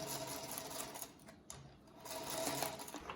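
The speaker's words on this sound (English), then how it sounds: "I need to be guiding my fabric before it gets to the needle." Sewing machine stitching practice fabric being guided toward the needle, a steady close mechanical whirr that briefly slackens midway and then resumes, with no talk.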